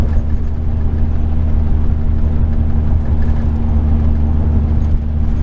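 A Ford E350 van with a V10 engine climbs a steep mountain grade in overdrive at about 60 mph and 1800 RPM, giving a steady, loud low drone with road rumble and whir that hold constant throughout.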